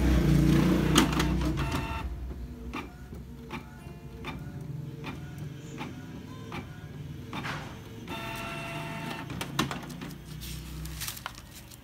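An inkjet printer runs its cleaning cycle after a new cartridge is installed, giving off a long stretch of mechanical whirring, ticking and clattering from the print head and feed, close by and steady with occasional louder clunks.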